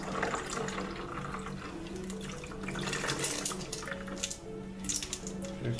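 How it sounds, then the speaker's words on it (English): Grimy rock tumbler water poured out through a sieve over a sink, giving a steady, continuous splashing and trickling flow that stays fairly quiet throughout, with no talking over it. "Pour this out."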